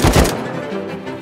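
A turret firing in a train-base video game: a pair of heavy, close thunks in quick succession, followed by a fading mechanical tail.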